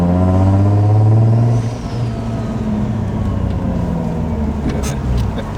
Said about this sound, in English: The spool on these G Series turbos, man, so sick